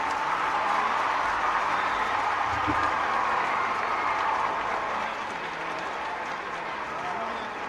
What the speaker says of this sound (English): I'm sure you know from the applause how much we loved your speech.